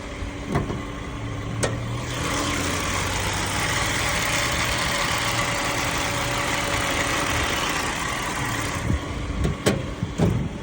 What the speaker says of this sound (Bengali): দেখেন ইঞ্জিনের সাউন্ডটা মাশাআল্লাহ স্মুথ সাউন্ড।